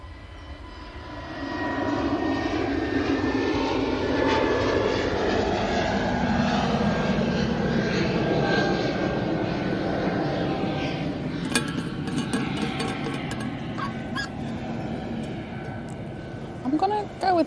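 EasyJet airliner jet engines at Manchester Airport roar in a broad sustained rumble that swells, holds and slowly fades as the plane passes, heard from a plane-spotting spot with faint clinks and light sounds near the end.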